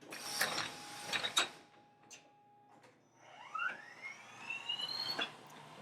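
Machine drilling two 0.272-inch holes at 4,500 RPM in a shop-made fixture for a dividers/compass build, with faint whirring, clicks and a rising whine as the spindle speeds up, no talk.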